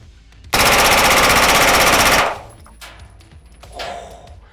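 A suppressed gun at a shooting range fires a rapid, sustained automatic burst of about a second and a half, loud and close, followed by a quieter mechanical clatter and a short thump afterward.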